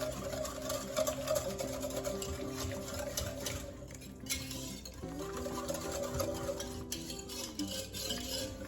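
A spoon stirs sour cream into a pot of Hungarian mushroom soup, making soft, repeated scraping and swishing against the cookware over a steady simmering hum, with no talking.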